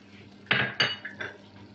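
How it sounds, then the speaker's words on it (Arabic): A spoon knocks and scrapes against a metal pot while Moroccan harira soup is stirred, with two sharp clanks followed by softer scraping strokes, close and alone without talk. "ضروري تحركوها من التحت باش ما تلصقش ليكم"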